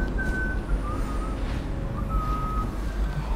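A character in the video game Dishonored whistles a clear, wavering tune in short phrases over a loud, steady low rumble of background noise.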